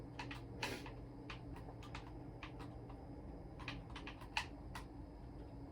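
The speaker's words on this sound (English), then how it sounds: "I'm sorry if you hear the clickety-clack of my controller" Game controller buttons click in quick, irregular bursts during a Black Ops 1 Zombies session, light close taps spread across the clip over a low steady hum, with no talking.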